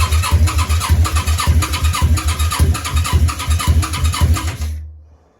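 Yamaha Virago 535 motorcycle engine cranking rapidly and rhythmically, pulsing with near-catching firing, loud and close, then stopping abruptly as the starter cuts off without the engine running.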